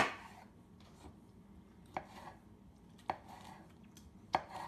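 Hand-chopping pizza ingredients with a knife on a board gives a few spaced, sharp taps, roughly one per second, with soft rubbing between, close and quiet without talk.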